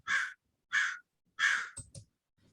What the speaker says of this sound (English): So here's a pet crow.